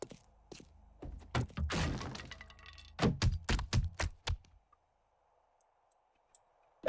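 Weapon reload in 7 Days to Die: a quick run of close metallic clicks, clacks and thunks in two bursts, with a short rattling scrape between them, then quiet with a faint hum.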